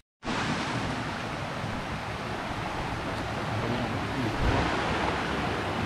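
Water from a large mountain spring near the foot of the Sierra Madre rushes in a steady, loud, broadband stream, constant throughout and heard alone without voices.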